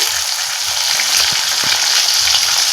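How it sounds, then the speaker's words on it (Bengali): Pabda fish frying in hot oil, a loud, continuous dense sizzle and crackle close up, with a few faint soft knocks underneath. "দেখুন আমি মাছগুলো ভাজছি"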